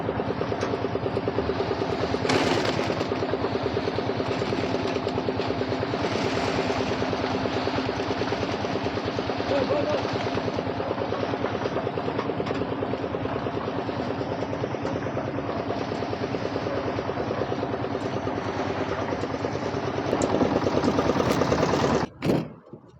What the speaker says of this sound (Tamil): இப்போ தான் அந்த காங்கிரீட் நம்ம வீடியோ எடுத்த காங்கிரீட் வந்து மிக்சர் மிஷினில் ஓடிட்டுருக்கு